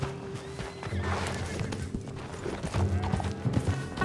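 Horse hooves clip-clop steadily in the video game Red Dead Redemption 2, a continuous trotting rhythm over a busy background of game ambience.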